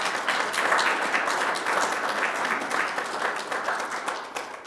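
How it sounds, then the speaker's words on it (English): A meeting audience at a native seed stakeholder gathering applauds, a fairly loud burst of clapping that holds steady and gradually thins toward the end. "So round of applause, please,"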